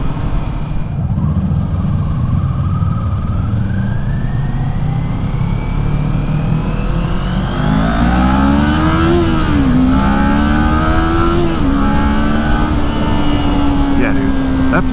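A 2023 Kawasaki Ninja 400 motorcycle engine revs up through three gears, a continuous close engine drone whose pitch climbs, drops at each shift and climbs again, with wind rush throughout.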